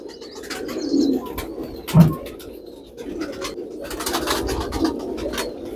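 Pigeons coo in a low, soft repeated murmur, with one louder coo standing out amid faint chirps and background clatter; no one speaks.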